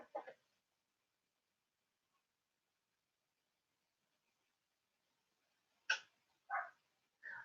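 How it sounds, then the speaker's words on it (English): A dog barks outside in a garden, a few short, muffled, distant barks after a long silence, with one brief bark at the very start. "You can hear barking"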